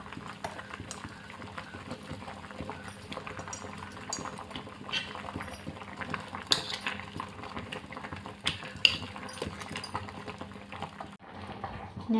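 Bottle gourd pieces simmer in a pot of water with turmeric, giving a continuous soft bubbling and crackling boil with occasional small clinks, steady and close, with no voices.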